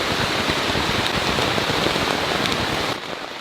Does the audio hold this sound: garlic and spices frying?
no